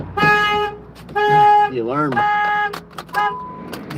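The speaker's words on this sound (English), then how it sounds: "My alarm's gonna go off because when I hit my locks" A car alarm blares nearby in cycling patterns, set off by the door locks through an electrical fault, alternating steady tones with a rapidly warbling siren, loud and close.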